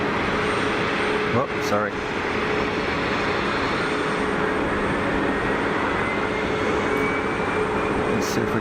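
An easyJet airliner passes low over the airport fence on landing at Geneva, giving a loud, continuous engine roar with a thin whine running through it, and a brief spoken remark early on.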